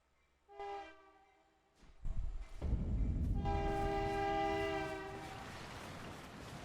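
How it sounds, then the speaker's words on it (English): A train horn sounds close by in a video game, several sustained harmonic blasts over a rising rumble of rail cars rolling past, loud and continuous with no talking. "Sorry about the train."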